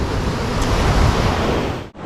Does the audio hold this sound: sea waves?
yes